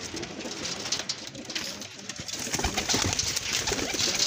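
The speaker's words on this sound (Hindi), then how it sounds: "ते आ भी देसी जौनसरी कबूतरी है।" Desi Jaunsari pigeons coo steadily through a busy, noisy loft, with soft repeated calls close by and no talking.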